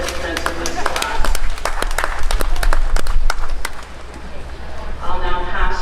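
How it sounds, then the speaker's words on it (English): Spectators at a summer agricultural show's Holstein heifer class applaud the participants, a loud burst of clapping that gradually thins out, with some voices in the background. "Let's give a big round of applause for all our participants in this class."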